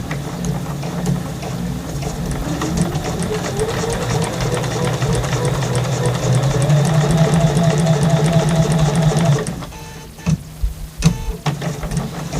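A sewing machine stitching a quarter-inch seam on a tote bag with interfacing, a loud steady mechanical whirr that runs for several seconds, rises slightly, then stops, followed by scattered clicks and handling sounds.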